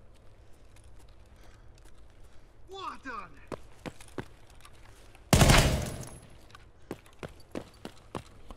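Video game gunfire: one loud, sharp burst in the middle, with scattered single cracks and footstep-like taps around it, and someone talking at points.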